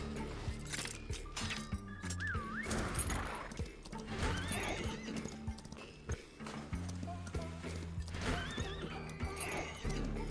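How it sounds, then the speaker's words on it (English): A horse in a video game whinnies several times over running clip-clop hoofbeats, with a busy music score and other game effects mixed in at a steady, loud level. "you ride your horse and then you jump with the horse and then you jump off the horse."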